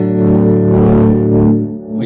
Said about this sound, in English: It's got a separate overdrive channel